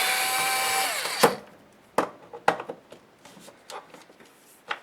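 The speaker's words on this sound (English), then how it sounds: "you don't care if I pull screws out, do you?" A power driver backs rusty, crusty screws out of a Snap-On MT2400. A steady motor whine winds down and stops, then sharp clanks and rattles of screws and metal parts follow, close and loud.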